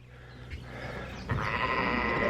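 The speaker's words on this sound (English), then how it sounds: "Now these are hair sheep. They're called Katahdins." Katahdin hair sheep on a farm, a single bleat rising midway and holding over steady barnyard background noise, fairly close, with no talking.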